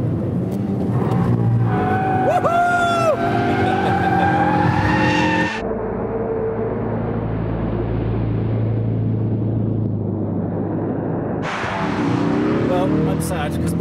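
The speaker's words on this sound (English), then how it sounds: "now that we're in proper drift mode, and see how it fares at higher speeds" A Ford Focus RS engine roars at high speed in drift mode with tires squealing through a drift, the revs rising and falling, loud and close throughout.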